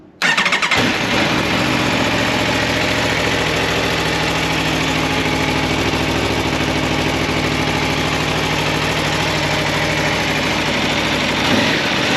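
An Aprilia Tuono 1100 V4 Factory motorcycle with a Mivv SR-1 exhaust cranks and fires up after a brief quiet moment, then settles into a loud, steady, close-up idle that rumbles on without pause.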